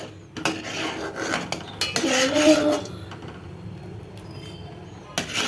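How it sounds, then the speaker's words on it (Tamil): A utensil stirs thickening milk in a pan for homemade palkova, scraping and clinking against the metal in close, uneven strokes with occasional sharper knocks. "அதனால் இந்த மாதிரி கிளறிட்டே இருங்க"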